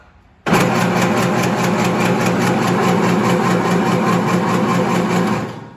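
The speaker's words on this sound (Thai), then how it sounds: "ลองเปิดเครื่องเลยครับ" An electric meatball-making machine switches on with a sudden onset and runs at a steady, loud, even mechanical whir for about five seconds before winding down, with no talking.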